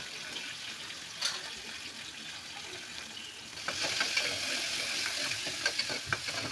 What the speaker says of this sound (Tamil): நறுக்கி வச்ச வெங்காயம், பச்சை மிளகாலாம் அதில் போட்டு நல்லா வதக்கணும்